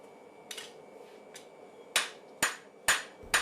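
Hammer blows forging a Mjolnir pendant: a few light taps, then four sharp ringing strikes at a steady rhythm, close and distinct against quiet background.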